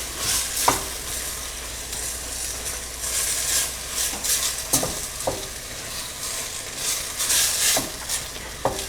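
Red lentils being stirred in a pot for vegan lentil tortilla soup, a steady close scraping and sizzling stir with scattered sharp spoon knocks against the pot throughout.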